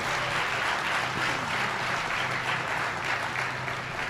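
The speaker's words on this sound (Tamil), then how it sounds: "ரசித்து ரசித்து கைத்தட்டுகிற கூட்டத்தை நான் திருவள்ளூரில்தான் பார்க்கிறேன்" Audience at a talk in Tiruvallur applauding steadily, a dense continuous wash of clapping hands that holds at an even level throughout, with no voices over it.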